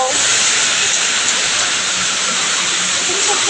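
Rain falls steadily outdoors in a garden where pineapples are grown, a constant, loud broadband hiss that holds without a break and has no voices over it.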